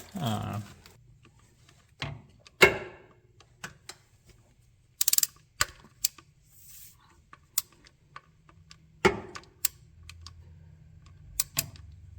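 A ratchet tightens bolts on a Honda Accord engine during timing belt work, clicking in short bursts of rapid pawl ticks separated by quiet gaps, with sharp metallic taps and clanks from the tool close by.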